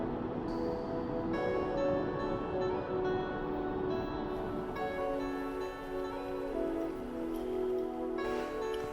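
Steady rain falls continuously on the Kangchenjunga trek in eastern Nepal, a dense hiss of drops with faint tonal hum mixed in, constant and fairly loud throughout.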